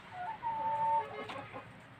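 Soft, low clucking from a broody hen, a few murmured calls with a brief higher note, close by against faint background noise.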